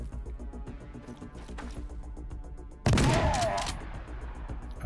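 Video game gunfire from a turn-based post-apocalyptic squad battle erupts as one loud burst of shots about halfway through, then trails off over a steady hum of game music, with no talking.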